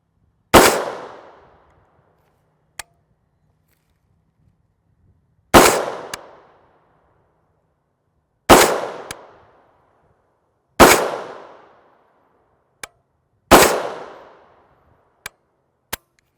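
An 8.6 Blackout rifle fires 300-grain copper solid subsonic rounds unsuppressed, five sharp, loud shots spaced a few seconds apart, each trailing a brief decaying echo, with faint metallic clinks between them.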